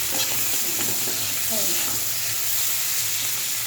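Salted water lily stems frying lightly in a pan give a loud, even sizzle throughout, broken by a few soft stirring scrapes and a faint murmur underneath.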